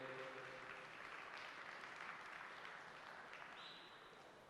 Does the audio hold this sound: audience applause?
yes